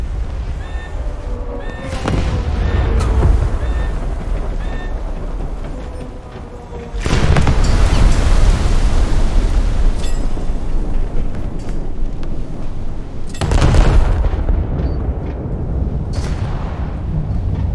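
Naval gun salvos in the World of Warships game from the battleship Kongou, three heavy booming shots spaced several seconds apart, each with a long rumbling tail over constant engine-like background noise.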